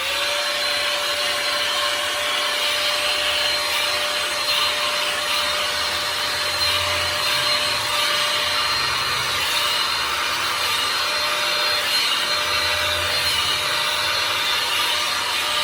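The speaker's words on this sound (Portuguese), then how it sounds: "Aqui é uma escova, tá? Ela é secadora." A hot air drying brush blows steadily while it is passed through hair, producing a loud, continuous close-up whoosh with a faint tonal whine throughout and no talking.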